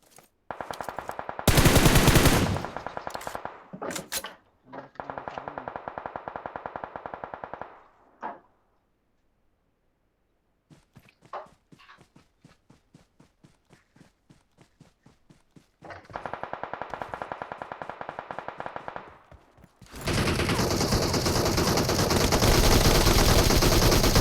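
A video game shootout with loud bursts of rapid automatic gunfire separated by silent gaps and runs of quicker single shots, ending in a sustained heavy barrage.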